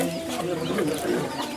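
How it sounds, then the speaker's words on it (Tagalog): A flock of chickens at Batisto, pecking at leftover take-out food, clucks in a dense, continuous cluster of calls over busy outdoor background noise. "Mga manok na sa Batisto. Ang daming manok."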